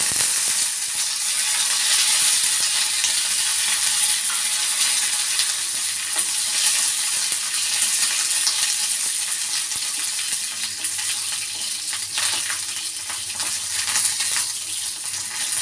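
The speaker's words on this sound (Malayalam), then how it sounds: "ഈ മുളകും കൂടി ഇട്ട് കൊടുക്കാം. എൻ്റെ കറിവേപ്പില" Dried red chillies and curry leaves sizzle steadily in hot oil in a pan, a dense, even crackling frying sound that runs throughout with faint stirring scrapes and no talking.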